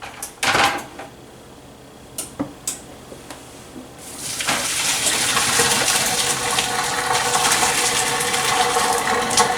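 Hot pasta water pouring into a strainer in a kitchen sink, a sustained loud gushing splash after a few knocks and clatters of pot handling.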